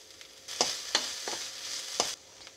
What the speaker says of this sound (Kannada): ಅದು ಹಸಿ ವಾಸನೆ ಹೋಗೋವರೆಗೆ ಹುರಿಬೇಕು ಅದನ್ನು.